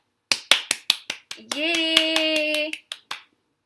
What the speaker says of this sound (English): Everyone, let's give a clap for Kamakshi.